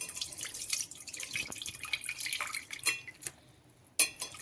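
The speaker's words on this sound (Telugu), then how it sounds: "ఇప్పుడు మనం గిన్నెలో ఇది వడబోసేసుకుందాం" Tamarind-tomato rasam water is strained into a pot, with soft trickling and drips and a few sharp clinks of the vessel, fairly faint and close.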